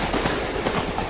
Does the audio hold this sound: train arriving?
yes